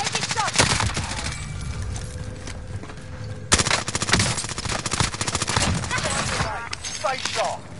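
Dense machine-gun fire rattles in long, rapid bursts in a video game firefight, loud and close with sharp sudden onsets, and a voice speaks briefly beneath the shooting.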